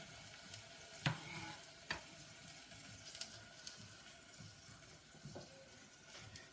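Food cooking down in a pot at home, a soft continuous simmering hiss with scattered stirring clinks and taps against the pot, fairly quiet and with no talking.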